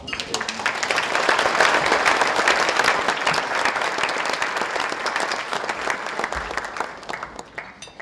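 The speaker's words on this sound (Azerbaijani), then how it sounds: "gəlin cənab prezidenti alqışlayaq" Audience applauding the president at a banquet for participants of the Sixth Global Baku Forum: dense, sustained clapping from a large crowd holds steady and loud, then thins slightly toward the end.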